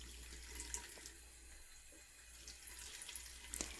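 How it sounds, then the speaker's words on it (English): A bathroom sink tap runs while a makeup sponge is rinsed and squeezed beneath it, giving a soft, fairly quiet stream of water with a few small splashes and drips near the end. "Just rinse the water through the sponge, just kind of squeeze it out."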